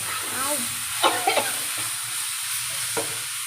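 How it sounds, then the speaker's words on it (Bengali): Onions frying in a pan and being stirred give a soft sizzle with a few sharp scraping clicks, while a faint voice murmurs in the background. "পেঁয়াজ ভাজা ভাজা লাল হয়ে বেশি এলে তাড়াতাড়ি ডাইলা দে"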